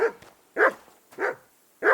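A dog in the medieval role-playing game Kingdom Come: Deliverance gives four evenly spaced, fairly loud barks over a couple of seconds, with no talk over them.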